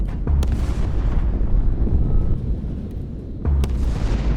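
Torpedoes fire in a space video game as heavy booming blasts, one loud burst near the start and another near the end, with a continuous low rumble between them.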